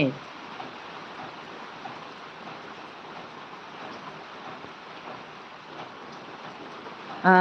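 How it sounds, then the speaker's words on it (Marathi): Rain falls as a continuous, even hiss of steady downpour, constant in level with no breaks, and a brief voice appears only at the very start and end. "लाईव्हला पण पाऊस चालू आहे बघू शकता"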